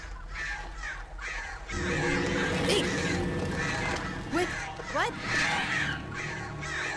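Screeching, cawing birds from the video game Alan Wake, a loud dense flock of calls with sharp rising screeches, while a person speaks briefly over them.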